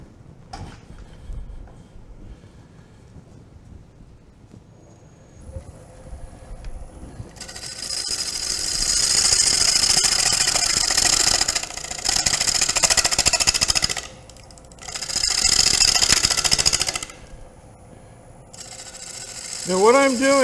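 A wood lathe spins while a gouge makes a bevel-riding push cut, the cutting rising into loud, hissing bursts of several seconds each with short pauses between, over a low mechanical hum.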